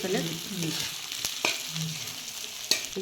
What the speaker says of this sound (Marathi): तांदूळ चांगलं परतून घ्यायचं